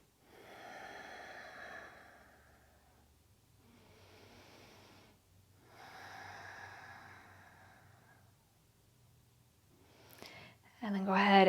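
Slow, deep breaths during a yin yoga stretch, several long audible inhales and exhales, soft and close, in a quiet room.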